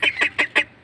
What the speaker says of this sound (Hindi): हमारी बतख थी